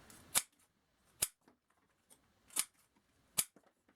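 EMT shears snap through five layers of paracord in four sharp, crisp clicks spaced about a second apart, close and isolated against near silence, with a couple of fainter ticks between.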